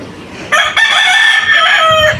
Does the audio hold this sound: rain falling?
no